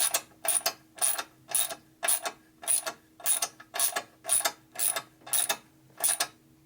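A torque wrench tightens bolts on the top end of an 80ci Evo engine in a 1990 Harley FXR, giving a steady run of about a dozen loud, evenly spaced ratcheting clicks, close up and with no talk.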